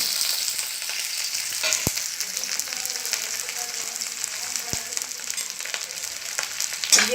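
Onions sizzling in a pan on their way to golden brown for a green bean sabzi, a steady, moderate frying hiss broken by a couple of sharp clicks.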